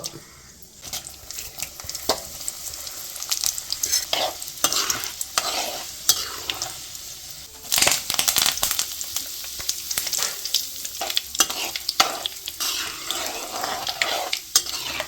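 Tempering seeds frying in hot oil in a pan on the stove, stirred for a mango pickle: a steady, close crackling sizzle with irregular stirring scrapes and pops throughout, and no talking.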